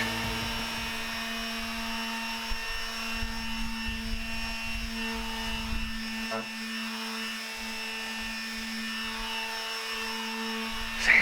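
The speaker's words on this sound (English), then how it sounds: "Lots of sanding." Power sanding of wood while a newbie woodworker builds a crafting table: a steady, continuous whirring drone with a constant tone runs throughout, loud and near, with slight scraping texture and a brief bump near the end.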